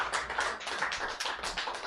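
A poetry reading audience applauds poet Suzanne Lummis with steady, dense clapping throughout, close and even.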